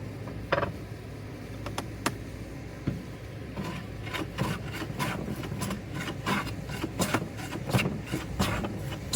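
A No 6 hand plane takes shavings from a wooden board, with a series of short, rasping strokes, sparse at first and then coming in quicker, irregular runs, close and fairly quiet.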